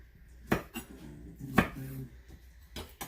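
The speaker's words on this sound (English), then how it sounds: "I'm just going to finish cutting up these Brussels sprouts" A knife chops through Brussels sprouts on a board: three crisp, close thuds spaced about a second apart, with faint clinks and a soft low murmur between them.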